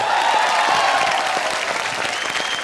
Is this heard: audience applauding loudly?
yes